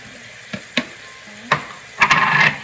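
Raisins and cashews are dropped into a pan and fry, with a few sharp clicks and taps followed by a short hissing sizzle and stirring, close and fairly loud.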